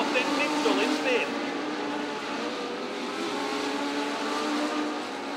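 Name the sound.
legend cars racing on speedway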